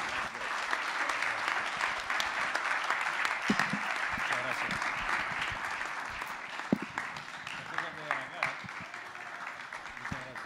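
A jazz masterclass audience bursts into a sustained round of applause, dense clapping that stays strong for several seconds before thinning out, with voices mixed in.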